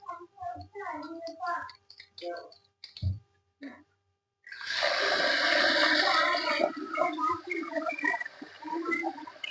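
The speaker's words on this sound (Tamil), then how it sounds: "ரெண்டு தடவை எல்லாத்தையும் கலந்து கழுவி கீழே ஊத்திட்டா அரிசி சுத்தமாயிரும்" Rinsing water being poured off rationed rice, a sustained close splashing gush of liquid lasting several seconds, preceded and followed by someone talking.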